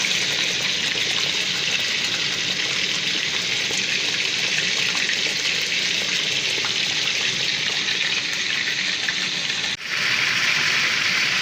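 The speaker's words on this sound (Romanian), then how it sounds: "Am început deja să prăjească." Beef frying in a pan gives off a steady, dense sizzle that holds at an even level throughout, with one brief dip near the end and no talk.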